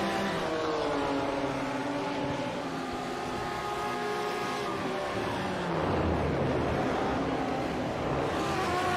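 A pack of race cars on track in an ARL GT racing game, layered engine whines holding steady, then a pass-by with shifting pitch around the sixth second, continuous and fairly loud.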